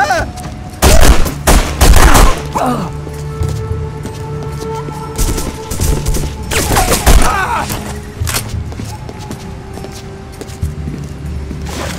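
Bursts of gunfire in The Punisher video game at a meat packing plant, loud rapid volleys in two main clusters with scattered later shots, and voices talking in between.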